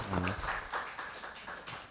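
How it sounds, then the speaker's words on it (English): Applause from a seminar audience for a guest speaker at an international seminar on sustainable development goals and university social responsibility: a brief voice at the start, then a steady patter of hand claps filling the room for a couple of seconds. "big applause to Dr."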